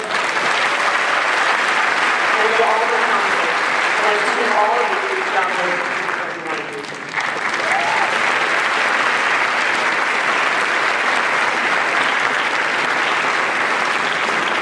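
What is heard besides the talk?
applause for an alderman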